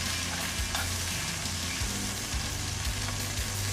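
Beef sears in a cast iron pan for a braise, giving a loud, steady close-up sizzle with low rumbling underneath and occasional soft shifts, with no voices.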